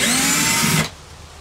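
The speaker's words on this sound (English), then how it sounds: "instead of screwdriver, make a little drill extension here" A power drill runs loud and close with a steady high whine while opening the housing of an Ironton retractable 65 ft 12/3 extension cord reel, then cuts off abruptly, leaving near silence.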